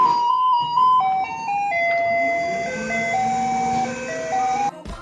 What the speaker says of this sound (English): it's so overplayed it is used as a theme of the garbage trucks in Taiwan.